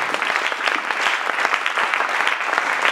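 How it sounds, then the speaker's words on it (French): Church congregation applauding to acclaim Jesus, a lively burst of many hands clapping in quick, uneven rhythm, close and sustained without pause. "Acclamons-le très fort, il mérite."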